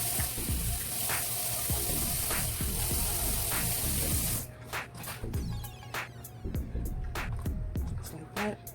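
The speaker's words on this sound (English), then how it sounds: "Put a little water in there." Water running into a bowl on a stovetop while cooking chicken and rice, a steady broadband splash and trickle that continues and then breaks into lighter intermittent dribbles.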